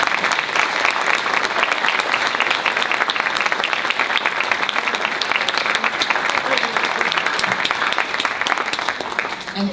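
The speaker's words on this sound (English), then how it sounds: "And you should applaud yourself for that" Steady, dense applause from the audience at a school recognition award ceremony, many hands clapping continuously at an even level throughout, with no break and no voices standing out.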